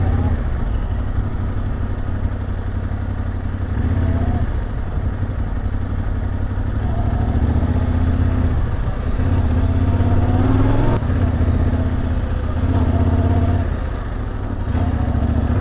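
A motorcycle engine runs steadily throughout, idling and pulling along on a ride near a reservoir, with rising and falling rev swells over a constant loud rumble.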